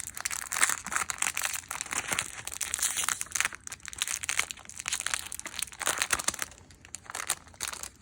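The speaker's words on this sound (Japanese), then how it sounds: "これね、こう開封していきましょうね。" Crinkling and rustling of packaging as a mail-order parcel of divination tools for I Ching fortune-telling is opened, continuous close crumpling with brief pauses.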